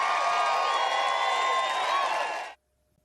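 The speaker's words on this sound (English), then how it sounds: "Note the cheers from the crowd there" A crowd at a political rally cheers loudly and steadily in a dense, sustained roar of voices for about two and a half seconds, then cuts off abruptly into silence.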